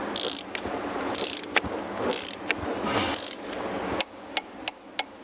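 A ratcheting wrench clicks in quick bursts while a wheel bearing nut is tightened on a spindle and the hub is rotated, with sharp metallic taps and a steady background hum.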